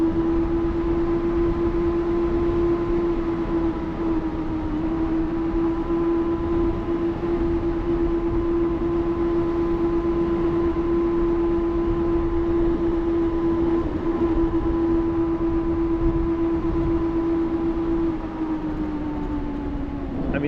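A QS273 2.5T 14kW hub motor on a Stealth B e-bike whines at full throttle from a dead stop, a steady loud electric tone holding pitch over road rumble before easing off near the end.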